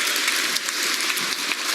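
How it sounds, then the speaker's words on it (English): A large keynote audience at EVE Fanfest 2014 applauds after a Dust 514 presentation, a dense, even wash of clapping hands throughout. "big round of applause for these guys."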